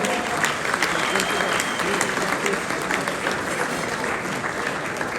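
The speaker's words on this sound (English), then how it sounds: "You can get another applause, please." Steady applause from a crowd at a gala dinner at the Sheraton Hotel in Zagreb, continuous clapping at even volume throughout with no pauses.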